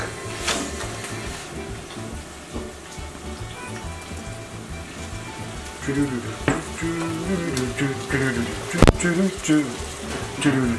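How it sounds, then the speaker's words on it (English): Ground pork sizzles and crackles steadily in a pan for bolognese, growing louder and busier partway through with stirring noises on top. No one speaks. "Now we're gonna add the meat, the pork first, because it takes the longest to cook."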